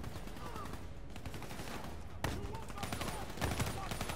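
Gunfire in the video game Call of Duty: Black Ops 3, a steady run of rapid shots and bursts with a sharper cluster near the middle, heard alone without talk.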